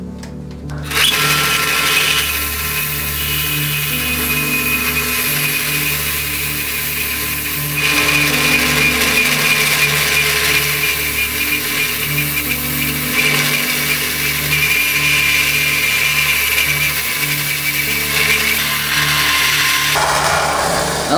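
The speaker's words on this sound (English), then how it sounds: "the next step will be to round off all the corners on my belt sander" A belt sander rounding the corners of an acrylic piece whirs steadily for a long stretch, a loud continuous motorized drone with a grinding edge, stopping abruptly near the end.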